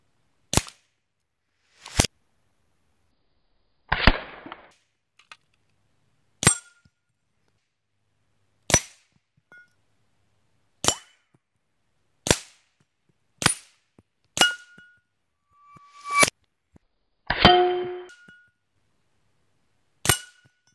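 Shots from a Hatsan Galatian Tactical semi-automatic air rifle ring off metal targets, about a dozen sharp cracks spaced a second or two apart, several followed by a bright metallic clang.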